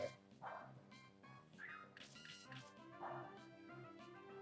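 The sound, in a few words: dog Pokémon cry or attack in a Pokémon video game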